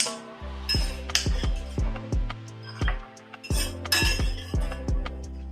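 Roasted cashews and almonds being scooped out of a pan while making dink ladoo clink against metal in a run of close, sharp taps and scrapes, several in quick clusters with short pauses between.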